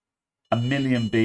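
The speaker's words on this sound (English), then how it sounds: "A million beeps." Error beeps from a Corsair custom-built computer's motherboard that fails to POST, a loud tonal beep starting after half a second of silence, broken by one short gap, then resuming close to the microphone.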